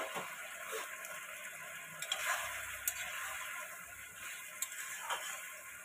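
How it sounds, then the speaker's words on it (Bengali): Chili soya with black pepper stir-frying in a pan, a faint steady hiss with a few light ticks and scrapes from a spatula, quiet and close, with no talk. "এটা কিছুক্ষণের জন্য কষাতে থাকবো।"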